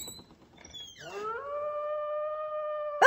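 A wolf in a Little Red Riding Hood tale gives a long, steady, sustained howl that rises and holds, heard close and fairly loud with no talk over it.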